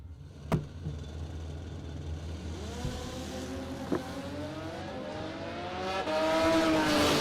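Car at a drag racing event, two-wheeled ride, idling with a low engine rumble, then revving up as pitch climbs steadily toward the end, heard at a moderate distance with sharp pops along the way.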